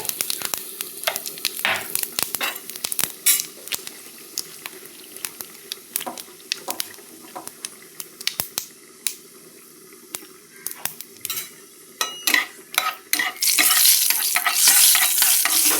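Panch phoron seeds crackling in hot oil for shukto, a bitter Bengali vegetable stew, with dense irregular pops and sizzles close up, then a louder continuous hiss near the end.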